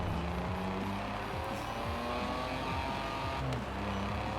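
A BMW E36 engine swapped into a rear-wheel-drive Audi drift build in Forza Horizon 4, revving hard and rising and falling through gear changes with faint tire squeal, loud and steady throughout.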